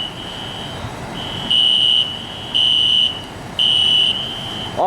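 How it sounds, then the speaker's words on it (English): Building fire alarm sounding loud and near, a high piercing electronic tone pulsing in regular half-second bursts over a fainter continuous tone. "apparently the fire alarms are going back on again"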